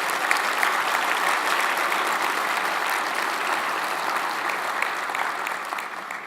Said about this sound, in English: So how about a round of applause for our international partners here?